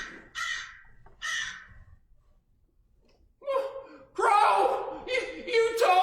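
A couple of raspy caws ring out, then a pause, then a voice speaks animatedly and fairly loudly.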